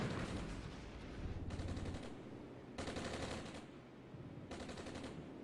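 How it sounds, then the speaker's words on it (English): Mortar fire in the Armored Brigade war game comes through as several faint bursts of rapid, crackling reports, separated by short lulls over a steady background rumble. "some mortar fire"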